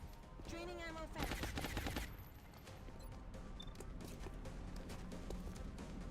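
Rapid bursts of automatic gunfire in the video game XCOM Long War, a dense rattling volley that is loudest early on and then continues as steadier, quieter shooting.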